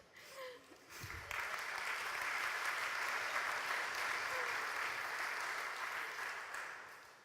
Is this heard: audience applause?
yes